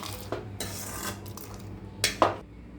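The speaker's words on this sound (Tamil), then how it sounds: "மிக்ஸி ஜாரில் நான் அந்த கடுகு வெந்தயம் போட்டுக்கலாம்" Mustard seeds and fenugreek seeds drop with light rattling clicks into a metal mixer jar, two quick clusters of clatter near the end, no voices.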